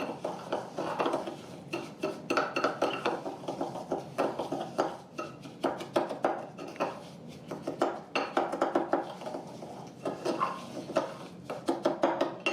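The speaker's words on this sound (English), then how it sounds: "And then I'm gonna go over here and stir." A spoon stirs a thick sugar scrub with cocoa in a bowl, giving soft repeated scraping and light clinks in uneven bursts, fairly quiet and close.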